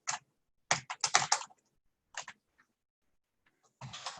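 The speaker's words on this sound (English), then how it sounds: "if you just type something" Typing on a computer keyboard in short irregular bursts of close, crisp key clicks separated by brief pauses, with no voices.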